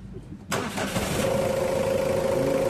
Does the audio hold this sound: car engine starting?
yes